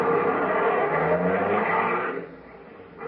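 Car sound effect in a vintage radio drama, a loud engine running and revving with a brief tire squeal, then fading down toward the end, with no voices over it.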